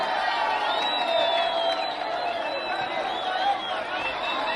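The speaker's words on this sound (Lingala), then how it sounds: "C'est l'entrée du M23 à Bukavu, applaudi par toute la population" A crowd in the streets of Bukavu cheers and whoops as M23 fighters enter the city, a sustained roar of voices with rising shouts, mingled with nearby talking.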